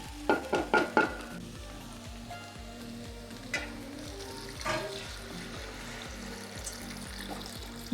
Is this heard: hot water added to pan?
yes